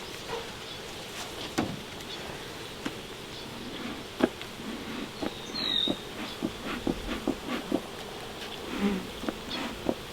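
Honeybees swarm an opened hive as smoke is puffed over it, a dense, close buzzing hum with a few louder passes near the ear and soft handling knocks, and no one talks.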